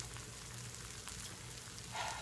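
Grilled cheese sizzling in a non-stick skillet, a steady soft crackling hiss with a brief louder burst near the end, faint and close with no talking.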